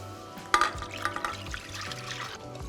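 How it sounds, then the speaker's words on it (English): Fish stock pours into a pot for polenta in a home kitchen, a short liquid splash with a few clinks and some stirring, fairly quiet and close, with no voices. "I'm going to add some fish stock."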